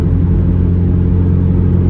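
A car on a Sunday morning cruise on worn tyres rumbles steadily from inside the cabin, a loud, even low drone with no revving.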